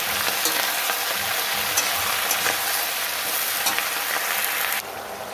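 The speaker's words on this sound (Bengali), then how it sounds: "এবার দেব লবণ, হলুদ, এবার ভালো করে নাড়াচাড়া করে ঢেকে দেব।" Malabar spinach stem curry being stirred in a hot pan after salt and turmeric go in, a bright, loud sizzle with rhythmic scraping strokes, then a sudden drop as the lid goes on.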